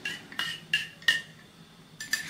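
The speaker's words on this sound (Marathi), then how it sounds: "ते मिक्स करायचंय चमच्याने थोडंसं" A metal spoon stirs saffron into hot milk in a bowl, four or five light clinks against the rim in an uneven rhythm, close and quiet with no voices.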